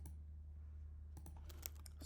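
Computer keyboard typing of a server command, several faint key clicks in the last second over a steady low electrical hum in a quiet room.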